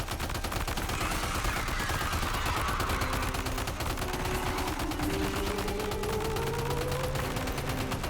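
Sustained gunfire from the Death Stranding 2 video game, a dense rattle of rapid shots going on throughout under steady, loud game effects and music.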